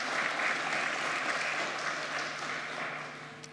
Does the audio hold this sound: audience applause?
yes